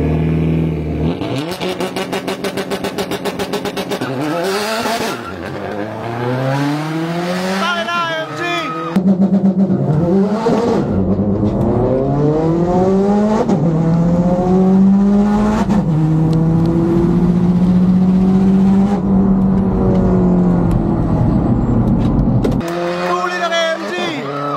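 A race between an electric MG car and a Subaru STI, with a strong engine note revving up and down in sweeping pitch almost continuously, loud and close, with brief gaps.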